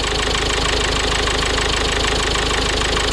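The replacement engine in a Mazda 6 idles steadily, close and fairly loud, with an even rapid ticking pulse running throughout and no voices.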